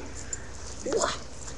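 A dog that wants a ball lets out a short, high whine. It is brief and close by, against quiet indoor background noise.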